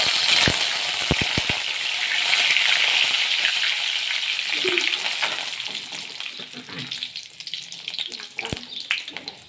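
A small handful of fresh curry leaves frying in hot oil: a continuous crackling sizzle, close and moderately loud, with a few sharp clinks early and the sputter gradually easing.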